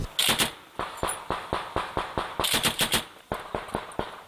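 Machine gun fire cracks in a fast, regular string of sharp bursts, loud and fairly close, with brief gaps between volleys.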